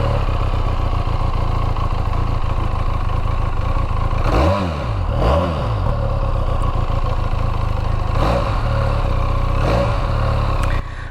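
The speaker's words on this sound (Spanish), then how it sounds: "Así suena esa poderosa moto." A Benelli Leoncino 500 motorcycle engine warms up from cold, idling steadily and close, with a few quick revs that rise and fall in pairs over the running engine.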